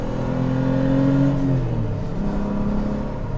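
A Mk3 Toyota MR2 V6 track car gives a short, close rev: the engine note swells, then drops back to a rumbling idle.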